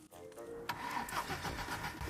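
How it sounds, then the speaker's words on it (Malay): An abandoned police car's starter whirs and cranks briefly before the engine catches and runs roughly, a fairly faint, uneven sputtering idle recorded from close by. "Enjin sedang berpusing."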